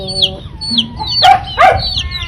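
Several chickens clucking close by, with short rising squawks and a couple of louder bursts over a busy farmyard background.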